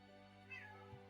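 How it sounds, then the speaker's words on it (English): A pet cat gives a single short meow, faint and a little distant, over a steady low hum, with no talking. "That was the clearest, like, meow that I've heard from him."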